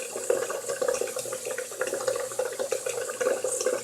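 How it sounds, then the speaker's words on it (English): Running tap water splashes steadily while a makeup sponge is squeezed and squished under the stream, close up. "I'm just massaging it and squeezing it under the water"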